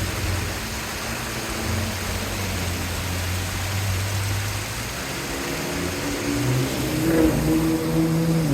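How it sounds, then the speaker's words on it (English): A Ford Raptor truck drives past on an Appalachian back road in West Virginia, its engine a low rumble that swells toward the end over a steady wash of flowing water nearby. "We got a Raptor coming through now."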